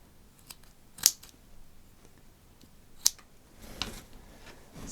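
Scissors cut through a sheet of inked printing paper in two crisp, sharp snips spaced about two seconds apart, followed by softer rustling and handling noises in an otherwise quiet room.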